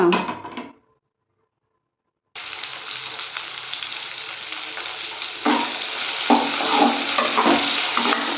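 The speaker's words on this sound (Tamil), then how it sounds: "இப்போ ஆயில் சேர்த்துட்டேன். இது நல்லா வதக்கி எடுத்துகிட்டு பார்க்கலாம்" Ivy gourd (kovakkai) sautés in oil for a pepper gravy, with a loud, steady sizzle that starts after a brief silence and swells with stirring and scraping near the end.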